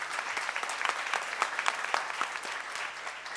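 A church seminar congregation claps briefly, a moderately loud, even patter of many hands that fades slightly at the end.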